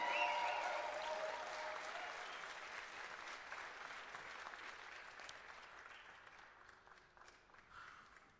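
A crowd applauds and cheers steadily for climber Adam Ondra, the clapping loudest at the start and slowly fading over several seconds, with a brief swell near the end.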